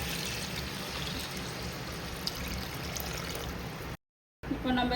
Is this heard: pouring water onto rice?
yes